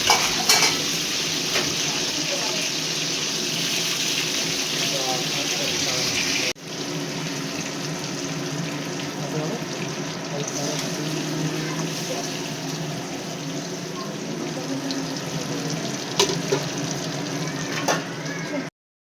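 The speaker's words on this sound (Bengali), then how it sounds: "মাংসর আলুটা ভাজছি ওদিকে" Potatoes for a meat curry fry in a pan during home cooking for a Jamai Shashthi feast. A loud, continuous sizzle runs throughout with occasional stirring clinks and faint background voices.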